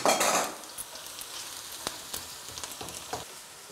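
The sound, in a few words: garlic frying in a pan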